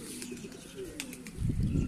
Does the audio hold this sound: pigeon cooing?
yes